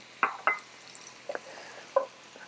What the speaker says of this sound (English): we're going to start by sautéing a quarter cup of onion in 2 tablespoons of butter